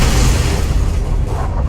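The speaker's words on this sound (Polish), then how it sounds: "Coś wybuchło." An explosion in the video game Fallout New Vegas, amid artillery fire, lands as one loud deep boom with a rumbling tail, heard alone.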